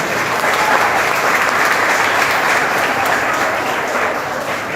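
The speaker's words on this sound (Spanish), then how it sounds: "¿Todos aplaudimos de acuerdo?" A chapel congregation applauds together in a dense, steady wash of clapping that holds for several seconds and eases slightly toward the end, with no voices on top.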